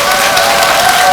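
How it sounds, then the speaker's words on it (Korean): Audience applause at a large Buddhist dharma assembly in a temple hall, dense continuous clapping close and loud for a brief moment. "그분들한테도 박수를 한번 주세요"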